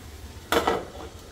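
A metal lid set down on a pot of palak paneer with spinach, tomato and onion, giving one short clatter followed by a second softer clink and brief ringing, heard close with no voices.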